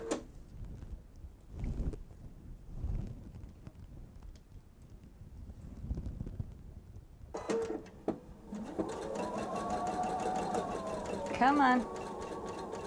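Sewing machine stitching a seam on a bench pillow, starting after some quiet handling and a brief spoken word, then running as a close, steady motor whir with a rising and falling pitch near the end.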